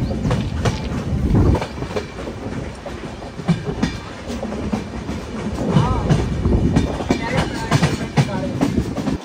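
A train rolls along the Jodhpur to Jaisalmer line through the Thar Desert, its wheels keeping a steady clickety-clack rhythm with loud, continuous rumbling and rattling from the carriages.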